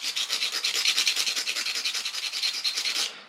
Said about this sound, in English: I'm just taking a fingernail file and I'm going to just touch up the edge of the toe just to sharpen it a hair